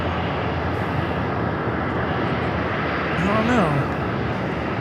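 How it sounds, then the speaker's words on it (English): A Gulfstream G700 jet at LAX airport gives off a steady, broad engine roar throughout, with a person speaking briefly over it. "This is the Gulfstream G700. That's a nice plane."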